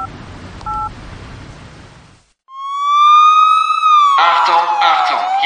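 Telephone keypad dialing tones sound in a music track, a short pair of beeps followed by a loud, rising and falling siren-like electronic tone with layered sounds in the mix.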